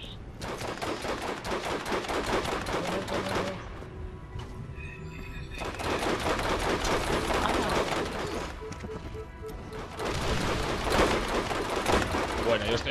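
Dense, rapid gunfire from the video game Borderlands rattles in long bursts, pausing briefly before resuming, with a faint voice underneath.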